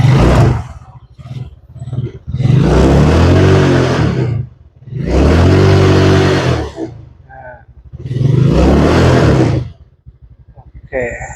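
A Yamaha Mio Smile scooter engine fitted with a racing CDI revs hard in three long, loud, close bursts separated by short idling pauses.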